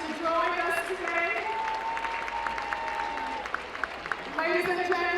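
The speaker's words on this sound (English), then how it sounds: "We want to acknowledge you with a round of applause." Audience applause for returning alumni classes at a spring 2012 commencement ceremony, a steady wash of clapping that holds for the whole stretch, with sustained tones and voices layered over it.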